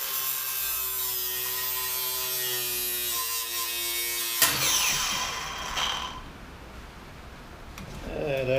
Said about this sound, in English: So if you're cutting the top off your Subaru Legacy, yeah, a big cutoff wheel.